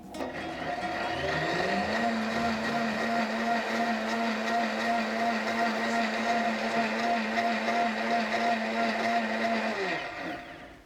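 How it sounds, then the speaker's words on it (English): A bartender's blender motor spins up making a ginger shake, holds a steady whirring drone for about ten seconds, then winds down at the end. "Is that a special bartender blender?"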